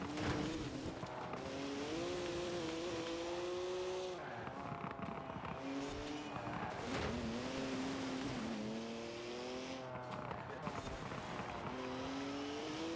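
A BMW M4 races through a video game, its engine note rising and falling in repeated revving sweeps with tire squeal and skidding, loud and continuous throughout.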